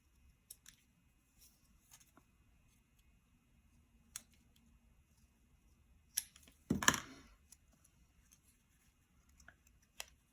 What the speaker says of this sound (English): I need to cut a little bit more down.